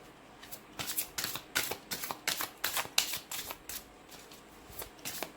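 A deck of angel oracle cards is shuffled close up in quick riffling strokes, about a dozen crisp bursts in a loose rhythm, with no talking.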